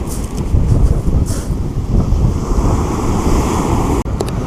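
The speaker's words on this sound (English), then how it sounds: "Of course, you're going to hear the wind blowing a little bit." Steady wind blowing over Pakefield Beach during beach fishing, a constant loud rush mixed with surf washing ashore, continuous throughout with a brief dropout near the end.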